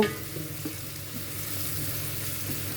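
Onions frying with garam masala in ghee and oil, a steady crackling sizzle with soft stirring scrapes from a wooden spatula, heard close and alone.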